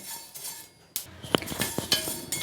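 Coriander seeds dry-roasting in an iron pan, with irregular metallic clinks and scrapes of a spoon stirring against the metal, a few sharper taps standing out amid a soft rustle.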